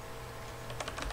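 Typing on a computer keyboard: a short flurry of crisp keystrokes, close and clear, starting partway through over a quiet room tone.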